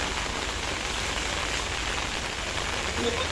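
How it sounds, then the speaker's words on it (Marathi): Steady rain pours down, a dense, even hiss of drops that continues unbroken throughout. "झोपून पाऊस चाललाय"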